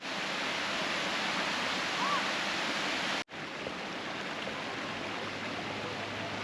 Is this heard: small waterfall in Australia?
yes